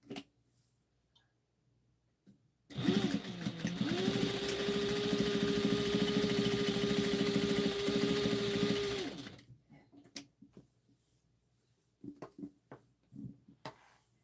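Sewing machine stitching fabric for a Halloween trick-or-treat basket: one steady, even whirring run of about six seconds, close and loud, with faint handling clicks before and after.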